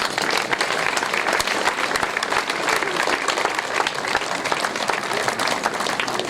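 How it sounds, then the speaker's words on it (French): Steady, dense applause from an audience at a commemoration ceremony, honoring decorations made by care-home residents; many hands clapping evenly and fairly loudly for several seconds with no pauses. "nous pouvons les applaudir aussi très très fort"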